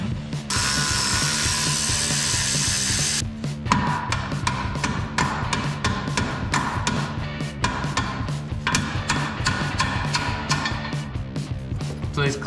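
A power tool cranks lock nuts off a sugar beet topper, giving loud, close rapid rattling and whirring bursts broken by short pauses, with clanking metal and a voice talking over it.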